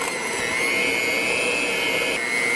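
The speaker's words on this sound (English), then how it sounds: "So we have 2 8-ounce packages of cream cheese softened, and you can go ahead and mix that." An electric mixer creams two packages of softened cream cheese, a loud, close, steady motor whine whose pitch shifts slightly near the end, with no talk.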